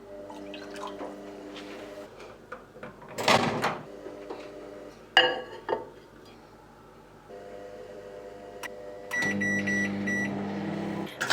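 A microwave oven heating a bowl of water with lemon juice and white vinegar hums steadily, with clicks and clatters along the way and a louder buzzing tone toward the end, no voices.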